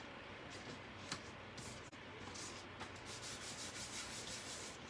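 An embossing buddy rubbed lightly across a scrap of black cardstock gives a steady, close, soft scuffing rub that runs continuously with brief pauses, no voices.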